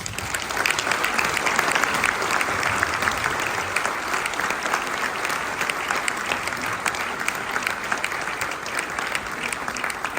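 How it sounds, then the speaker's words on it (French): A large audience at a mayor's speech in Les Sables d'Olonne applauds a guest, sustained, even crowd clapping filling the room for about ten seconds without a break. "vous pouvez l'applaudir."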